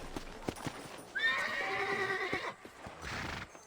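A horse in the Red Dead Redemption video game gives a loud, shaky whinny over the steady clip-clop of hooves, with more hoofbeats and a snort after it and no talk.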